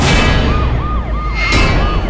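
An ambulance siren wails loudly and close, a rapid rising-and-falling yelp that repeats several times in quick succession.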